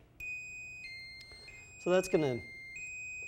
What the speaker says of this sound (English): when they stepped on the floor mat, you would hear this. Emergency call being placed.